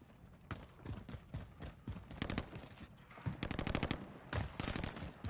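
Machine gun fire from a Call of Duty video game, loud rapid bursts of automatic shots in several volleys with short gaps, close and dense, no talk.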